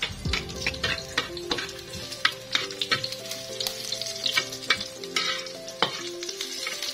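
Garlic sizzles in a hot pan while being stirred, with sharp spatula scrapes and taps over a crackling fry, close and fairly quiet with no talk, during cooking of ginataang puso ng saging at a home in Anda, Bohol.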